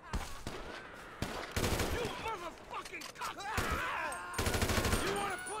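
Rapid bursts of automatic gunfire fired down from a high vantage point in GTA 5, loud and repeated through the clip, with a voice talking between and over the shots.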